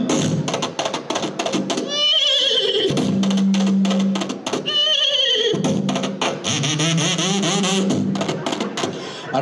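A performer imitates a horse's neigh with his voice, giving two loud whinnies in a live outdoor cowboy comedy sketch in a town square, over crowd noise and applause.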